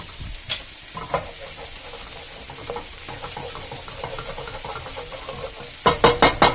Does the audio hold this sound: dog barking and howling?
no